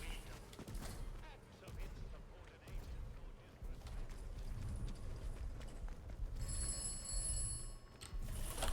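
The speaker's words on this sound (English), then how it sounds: "Oh, the telephone's ringing again." Telephone ringing inside the video game Atomfall, a repeated ring heard at moderate level beneath game ambience and background noise.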